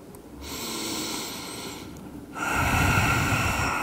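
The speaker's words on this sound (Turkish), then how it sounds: "Derin birkaç nefes alıp vererek bu durumu da sindir." Slow, deep breathing during a yoga lesson: one long inhale followed by a longer, louder exhale, close and alone.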